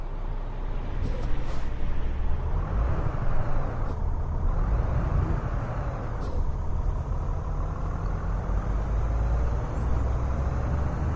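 Heavy truck rumbling past on a highway in American Truck Simulator, a loud steady low drone with brief air-brake-like hisses near the start and middle, no talking.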